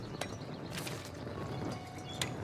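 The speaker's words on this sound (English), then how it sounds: "Wow, that thing is loud, ain't it? That's a charcoal hut." A working charcoal hut in the medieval city-building game Foundation gives off a steady mechanical clatter of low rumbling with sharp clicks and knocks repeating at irregular intervals, moderately loud and heard without speech.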